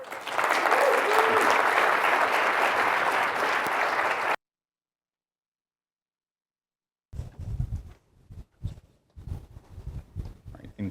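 Loud crowd applause for about four seconds at a startup demo day, then it cuts to silence, followed by scattered bursts of talking.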